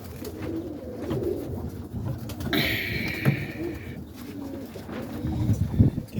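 Pigeons in a nest with young birds and eggs give soft, low cooing calls that repeat at intervals, close by, over a faint background with some handling noise.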